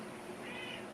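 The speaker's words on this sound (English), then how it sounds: "Sorry about my cat. He's just having fun yelling at me." A house cat meows once in a single drawn-out, fairly faint call heard on its own indoors, with no talk.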